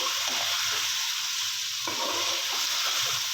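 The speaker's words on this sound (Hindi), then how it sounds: "मिक्स करेंगे अच्छी तरह" Mutton pieces being stirred into fried masala in a pot make a loud, continuous sizzle with scraping stir strokes, heard close with no speech.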